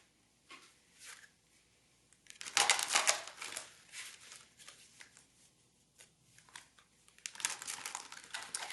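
Oracle cards being shuffled and handled, a papery riffling and rustling close by that swells into a dense burst, then continues in softer, uneven flurries.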